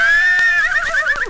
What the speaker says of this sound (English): Food for you, Major the horse